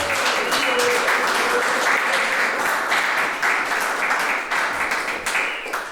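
A poetry reading audience at Woodland Pattern claps in a steady, dense round of applause that holds for about six seconds without letting up, then thins slightly toward the end.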